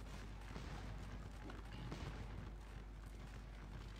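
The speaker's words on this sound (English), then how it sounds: "So there you can see them firing." Musket volleys from infantry troops in the Napoleonic battle game Scourge of War: Waterloo, heard as a faint, distant, continuous crackle of gunfire with a few slightly stronger pops, under a steady wash of battlefield noise.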